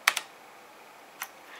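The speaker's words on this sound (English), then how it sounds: "FN F9 controls the WASD keys, FN F10 controls the arrow keys, and FN F11 controls the rest of the keyboard" Keys pressed on a Rosewill Helios RK-9200 mechanical keyboard: a quick double click, a pause, then one more sharp click, close and crisp against a quiet background.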